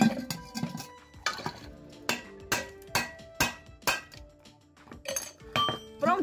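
Metal casserole pots clink and knock together as they are handled, giving a quick series of sharp, bright metallic strikes with short gaps between them, close by and with no talk.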